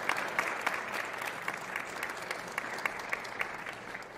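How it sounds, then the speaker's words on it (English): A concert hall audience at a music festival gives sustained, even applause to the performers, moderately distant and filling the room, with scattered sharper claps popping through the wash. "can we hear it one more time, one more round of applause for everyone in that first half?"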